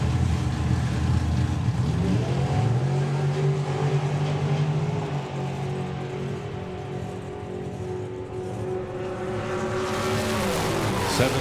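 Drag racing cars run down the track at a Festival of Power drag racing meet, a loud sustained engine roar with rising and falling harmonic whine and faint tyre chirps, distant and steady throughout.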